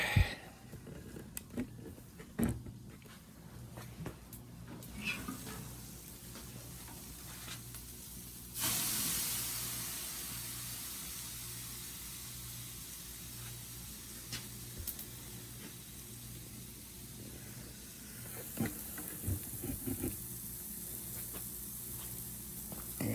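Flare-up hissing and sizzling on a grill cooking New York strip steak, a broad spray-like hiss that swells suddenly partway through and persists, with faint ticks and clatter around it.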